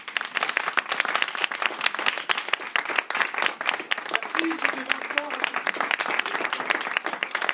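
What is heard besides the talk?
audience applause for a one-man show comedian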